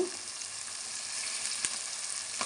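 Curry leaves sizzling in hot oil in a pan for a Telugu fish curry, a steady bright hiss with a couple of small pops, fairly faint and without speech.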